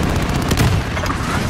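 Rapid gunfire from a teammate in a Call of Duty: Modern Warfare multiplayer match, a dense continuous burst of shots filling the whole moment, loud and close.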